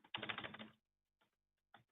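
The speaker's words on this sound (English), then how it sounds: "you're typing" Fast typing on a computer keyboard comes through as a dense burst of rapid key clatter lasting under a second, followed by two short, brief flurries of keystrokes after pauses, close and fairly quiet.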